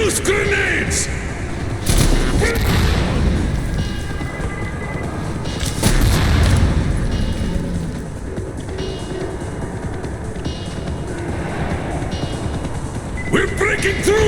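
Grenade explosions and gunfire in the Metro Exodus video game, loud booming blasts and rattling shots over a dense rumbling battle backdrop, with shouting voices over the fighting.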